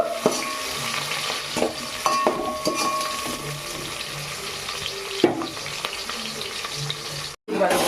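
Ingredients sizzle in a pan while street-style egg fried rice with beans is cooked, a steady frying hiss with scattered metallic clinks of stirring and a brief break near the end.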